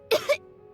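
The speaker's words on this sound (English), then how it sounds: "He kept coughing all the time, just like me." A child coughs twice in quick succession, short and dry, up close in a quiet video game cutscene.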